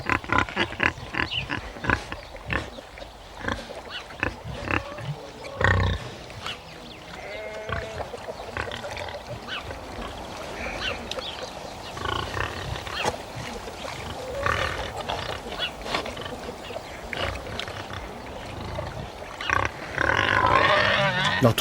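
A sow and a young, inexperienced boar grunt and squeal while mating on a farm, giving a string of rough, irregular grunts, some near and loud, with a voice talking over parts of it.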